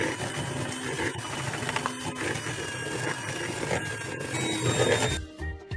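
An electric mixer beats margarine for cookie dough, a steady dense whirring drone with rattling beater noise that holds nearly throughout before cutting off at the end.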